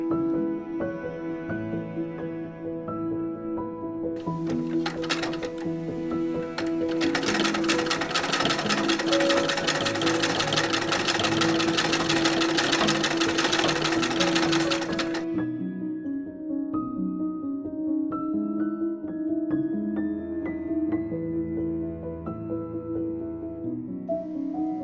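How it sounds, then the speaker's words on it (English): Sewing machine stitching darts in a high-waisted corseted skirt, running steadily and close throughout with a louder, brighter burst of stitching in the middle, no voices. "First, I sew the darts."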